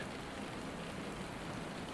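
Rain falls steadily and evenly, a dense unbroken patter close by with no other sounds or voices.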